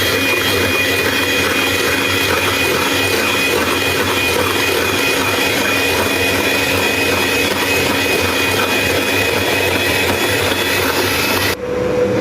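An electric beater whirs steadily and loudly through a mango dessert mixture of cream and mango puree, a continuous motor drone with no talk, cutting off abruptly near the end.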